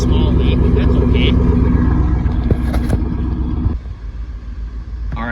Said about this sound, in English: listen to what's coming out of the muffler